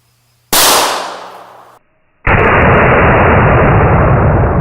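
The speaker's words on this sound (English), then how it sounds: "We're going to shoot right there." Two sharp, loud pistol shots from a 9x18 Makarov hollow point round ring out close by, the first decaying over about a second, the second followed by a sustained roaring rumble.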